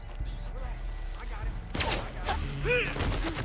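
Gunfire in the Western video game Red Dead Redemption 2: a few sharp shots and booms over a low game ambience, with voices talking around them.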